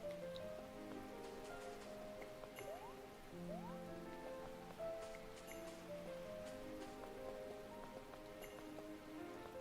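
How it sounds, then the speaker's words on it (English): Steady rain falling in the video game Fantasy Life i, a soft continuous patter and hiss layered under light in-game music with occasional chimes, no talking. "This is so rare. I've like never seen it rain before."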